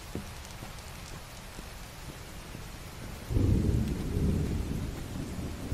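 Steady rain patters throughout a stormy scene in the video game Shame Legacy, and partway through a deep, loud rumble of thunder rolls in and lingers beneath the downpour.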